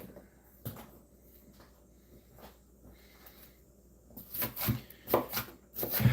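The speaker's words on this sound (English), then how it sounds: "as I'm chopping onion" A knife chops onion on a board in scattered faint taps, growing into quicker, louder cuts toward the end.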